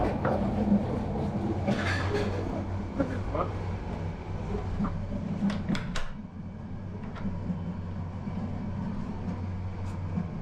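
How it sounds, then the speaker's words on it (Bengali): A passenger train runs through heavy rain, heard from inside a carriage. A continuous low rumble and rattle of the moving wagons holds steady throughout, with occasional knocks. "আমাদের ট্রেন এখন চালু হয়ে গেছে এখন চলতেছে"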